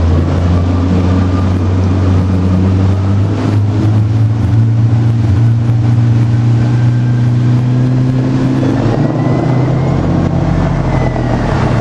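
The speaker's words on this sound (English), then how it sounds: "they put it in this outboard motor and you use that gas." A motorboat's outboard motor drones loudly and steadily, close by, its pitch shifting slightly, with wind and water noise mixed in.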